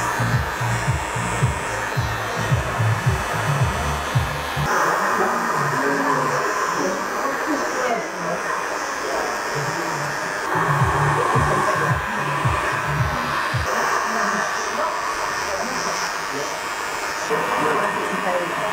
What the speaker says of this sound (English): I'm going to dry it off with the diffuser to really show off that natural curl